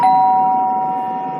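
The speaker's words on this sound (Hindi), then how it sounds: "घर की डोरबेल बजी" A house doorbell sounds one sustained electronic chime that rings out steadily and fades slowly, loud and alone.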